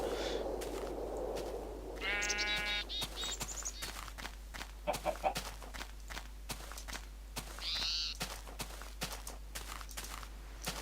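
Blocky Minecraft sheep bleat in a short wavering burst, answered by another bleat a few seconds later, over a steady run of clicking footsteps and game sounds.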